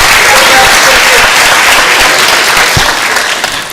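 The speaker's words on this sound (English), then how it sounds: "let's give our 8th grade and 5th grade winners a round of applause" An audience at a school board regular session applauds student award winners. The clapping is loud, dense and continuous, fading slightly at the end.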